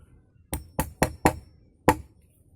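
A hammer strikes a wooden pole five times to knock in guide holes, four quick sharp knocks followed by a short pause and one final blow, close and clear.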